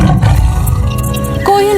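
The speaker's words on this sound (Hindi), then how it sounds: "दहाड़ते शेर," Lions roar in a wild forest setting, a deep heavy rumble that swells loud and close, with a rising tonal call toward the end over the background.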